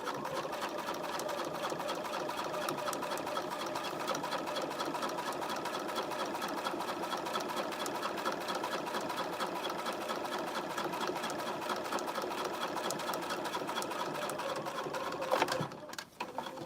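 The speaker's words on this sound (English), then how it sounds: "So I'm just top stitching, making sure the headband isn't in the way." A sewing machine top stitching around a fabric headband, running in a fast, even whirr at close range for most of the time before stopping abruptly near the end.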